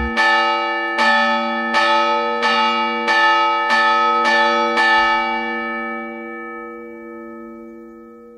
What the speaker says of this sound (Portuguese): agora são as mensagens no ar que fazem os sinos falar